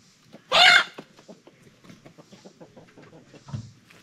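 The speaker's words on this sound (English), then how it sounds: "For the roosters, because they're going nuts." Chickens and roosters in a farm coop: a sudden loud squawk near the start, then scattered soft clucks and rustling, with a brief low call near the end.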